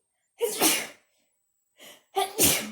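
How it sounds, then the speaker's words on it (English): A single loud, close sneeze with a sharp inhale beforehand, then a brief breath and a second burst, with silence between. "Hang on, guys, I'm gonna sneeze."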